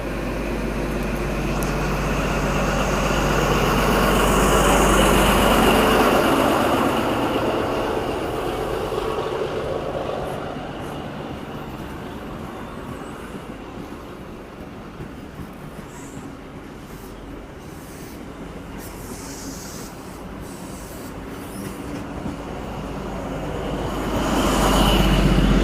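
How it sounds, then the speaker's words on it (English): A Dubbo XPT passenger train pulls out of platform 3 at Strathfield station, its diesel rumble loud and near at first, easing into a long steady roll as it moves away, then swelling again near the end. "Dubbo XPT departing platform number 3 here at Strathfield."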